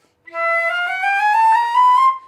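A flute plays a sustained tone that climbs through a few higher notes, clear and close, with breathy edges and no other sounds.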